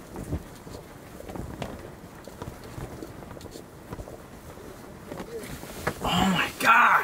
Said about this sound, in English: this wind is really starting to gust.